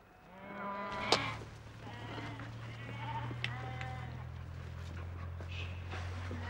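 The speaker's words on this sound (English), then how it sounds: "They keep a flock of predominantly Scots black and speckled-faced sheep" Scots blackface and speckled-faced mountain sheep bleat on an Irish hillside farm at Quigley's Point, a few clear calls over a steady low drone, with faint voices in the background.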